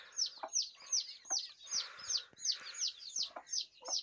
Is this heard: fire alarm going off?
no